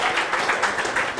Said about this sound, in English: Let's give one more round of applause for them